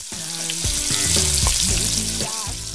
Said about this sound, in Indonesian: Setelah itu kita goreng lagi sampai matang.